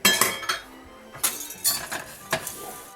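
Brown sugar and butter being stirred together in a pan, with a spoon scraping and clinking against the metal in a few quick, close taps and scrapes, heard alone without talk.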